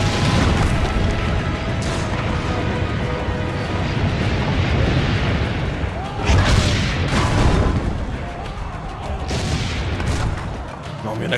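Loud, continuous booming cannon blasts and crashing impacts from Assassin's Creed Brotherhood roll over one another in a dense barrage, with occasional voices mixed in.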